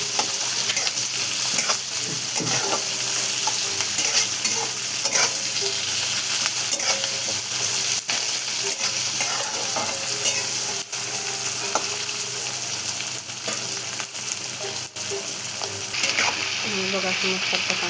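Onion and tomato cook in a pan with a continuous loud sizzle and busy metallic scraping and clicking of a spatula throughout, close and steady, with no clear talking.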